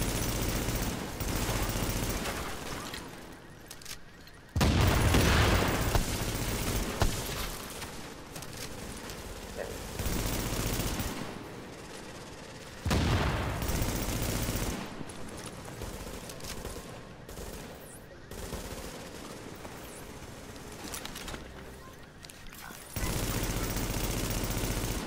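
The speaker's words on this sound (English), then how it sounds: "Ten consecutive shots" Bursts of gunfire from a video game shooter, loud dense volleys that cut in and out across the span, broken by quieter stretches of ambient game noise.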